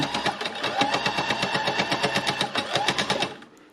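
An embellishing machine punches its needles into fabric pinned in place for a rusty-toned bodice, giving a fast, steady mechanical chatter close by that runs evenly and then stops abruptly near the end.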